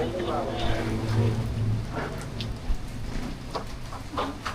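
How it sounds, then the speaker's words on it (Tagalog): Heavy rain pours down steadily in a Filipino roadside setting, a dense continuous hiss with scattered sharper drops and faint low rumbles, voices murmuring faintly beneath. "Grabe ulan to"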